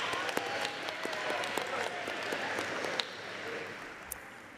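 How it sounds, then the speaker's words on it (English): A graduate commencement audience applauds in a large hall, a sustained wash of many hands clapping at a steady moderate level with a few sharper individual claps, slowly tapering toward the end. "join me in a hearty round of applause to thank your family and your friends"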